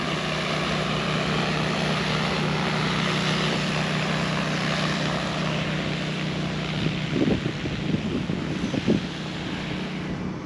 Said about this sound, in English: The props are blowing it spray solution on down in the canopy.